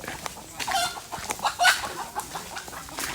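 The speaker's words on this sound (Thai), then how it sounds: "ไก่แจ้หรือไก่ป่า" Bantam chickens cluck at a temple set in the middle of the water, giving a run of short, fairly close clucks with uneven spacing over light background noise.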